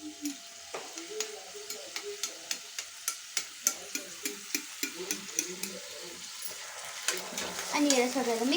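Sauces are mixed in a frying pan with a quiet steady sizzle and a regular run of spatula scrapes, about one each half second, while a voice talks over part of it.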